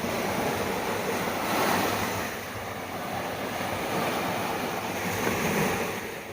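Rough sea waves wash onto a beach in a continuous, swelling roar, with gusty wind buffeting the microphone and no voices.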